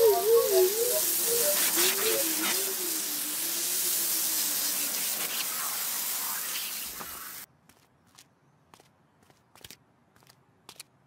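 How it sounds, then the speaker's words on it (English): A window cleaner spraying in a children's cartoon, a sustained loud hissing spray lasting several seconds with a wobbling tone over it, then cutting off to near silence with a few small clicks. "It's the window cleaner."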